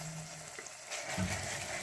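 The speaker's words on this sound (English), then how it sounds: "Then stir that up." Chopped liver fries in a pan while dhania is stirred in. The sizzle is soft and steady, with faint scraping from the stirring and no talk.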